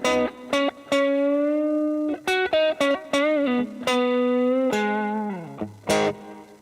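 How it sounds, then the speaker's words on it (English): Guitar tones played through an effects unit with delay and reverb, a run of separate sustained notes and short plucks whose tails ring on and fade rather than stopping dead. "This is the delay and the reverb."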